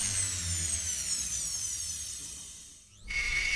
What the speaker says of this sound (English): Here's that large carbide burr.